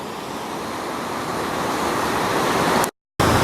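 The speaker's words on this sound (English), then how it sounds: "the river is really raging here this afternoon" The swollen Ausable River at Keeseville, running high in spring, gives a steady, loud, continuous rush of fast water, broken only by a brief cut near the end, with no voices.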